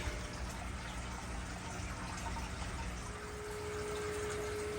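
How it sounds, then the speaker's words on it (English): Steady, continuous rush of water pumped back into a fish tank by an aquarium pump, with a constant low hum underneath, unbroken and fairly quiet throughout, with no voices. "it starts pumping the water back into the fish tank"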